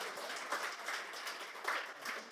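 Church congregation at a Friday prayer meeting applauding, a steady wash of many hands clapping at moderate distance, continuous and fairly faint throughout.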